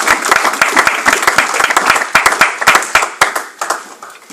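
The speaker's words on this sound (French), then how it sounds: "Et nous acclamons aussi très très fort pour la gloire de Dieu." A church congregation applauds and cheers loudly, with dense, uneven clapping that carries on without a break from start to finish and a few sharper claps rising above the rest.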